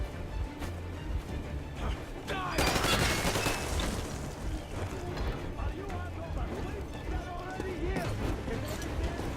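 Bursts of gunfire in the post-apocalyptic shooter Metro Exodus, loud and close at first, then continuing in scattered shots under game dialogue and talking voices.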